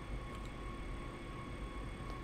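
A rapid-transit train rumbling and braking to a stop in Train Sim World, a steady low mechanical drone with faint hums and squeals, no voices.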